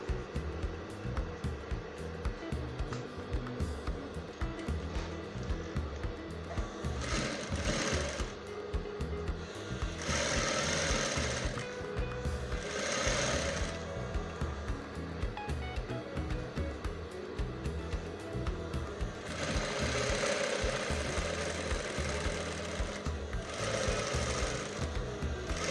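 A sewing machine stitches a simple skirt in a fast, steady mechanical chatter across the whole stretch, with several brief pauses and bursts.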